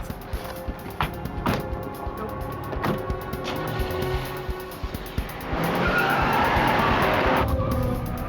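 A car pulls out and speeds away during an FBI arrest operation, its engine and tires building from scattered knocks and rumble into a louder, sustained rush of acceleration with some tire noise, no talking.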